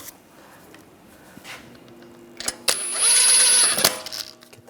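Lug nuts being snugged down on a 2009-2013 BMW 328i xDrive wheel with a power tool, heard as a few light clicks and then a short, sharp whirring burst of about a second, close by, with no talking.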